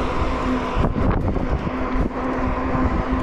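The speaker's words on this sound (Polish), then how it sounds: "ale już czuję, że jest pod wiatr" Wind buffets the microphone while a bicycle rides into a headwind on a downhill road, a steady broadband roar with gusty swells throughout and a faint steady hum beneath.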